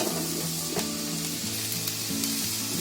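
Sliced mushrooms added to onions frying in a pan, a continuous close sizzle with occasional soft scraping stirs, no voices.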